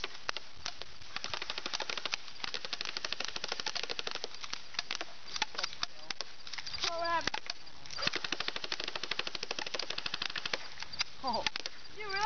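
Airsoft guns fire in rapid, continuous clattering bursts, a steady stream of sharp plastic snaps at moderate distance, with people talking now and then over the shooting.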